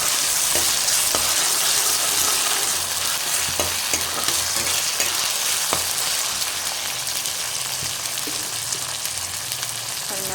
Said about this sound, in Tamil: நல்லா அந்த இஞ்சி பூண்டு நல்லா வதங்கிடுச்சு.